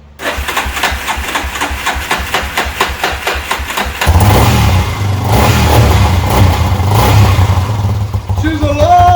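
Rebuilt 1998 Yamaha Warrior ATV engine, first heard cranking in a steady rhythmic chug, then catching and running loud and close with rough revving, while voices speak over it.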